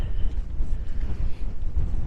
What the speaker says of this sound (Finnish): Sen verran kovaa tuulee.